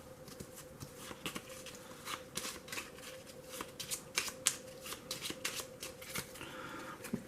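Close, quiet card shuffling: a steady run of soft riffles and taps over a faint background hum.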